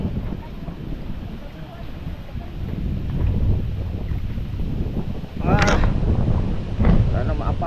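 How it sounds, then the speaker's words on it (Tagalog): Strong sea wind buffets a GoPro microphone on open water, a loud continuous rumbling roar with gusts that swell and peak near the end. "Hangin."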